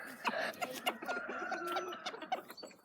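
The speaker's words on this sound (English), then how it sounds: "Look at these fluffy chickens." Black and white fluffy chickens on a grandfather's farm cluck and chatter softly in a loose, overlapping stream, faint and somewhat distant, with a few sharper calls poking through.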